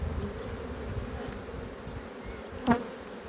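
Dense, steady drone of many honeybees buzzing around a hive being split, close and continuous, with one brief knock partway through.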